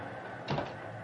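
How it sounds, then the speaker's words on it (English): Pneumatic door on a mock-up Pullman railroad car cycling open, a brief soft hiss and thump over steady room hum. "And the pneumatic door operates."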